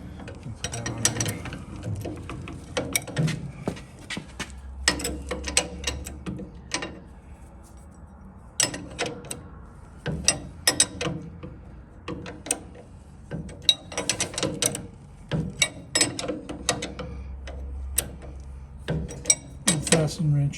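Ratchet wrench clicking in short bursts while working on coil-over suspension on a Mustang Fastback, close and fairly quiet, with some low talk in between.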